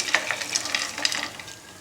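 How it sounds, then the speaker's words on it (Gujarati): Close scraping and stirring in a hot pan with a light sizzle, small pieces of dry fruit for chikki shifting and clicking against the metal in quick irregular strokes. "હવે તેમાં આપણે ડ્રાયફ્રૂટ ઉમેરી દઈશું"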